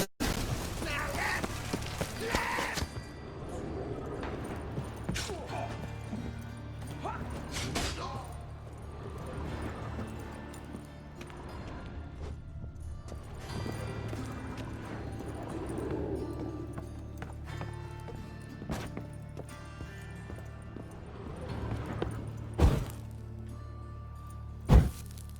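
Horse hooves clop in The Witcher 3 game amid a busy mix of ambient noise and effects, steady under the scene with a couple of sharp louder hits near the end.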